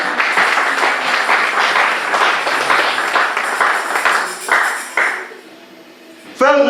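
At a 29 December church celebration, a congregation applauds the Lord with steady, dense clapping for about five seconds. The clapping then stops abruptly, and a brief voice follows.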